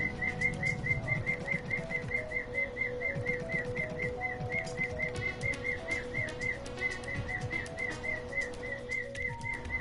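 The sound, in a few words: bird singing, from the video game Digimon Cyber Sleuth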